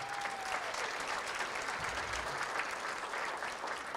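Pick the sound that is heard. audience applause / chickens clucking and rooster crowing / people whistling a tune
audience applause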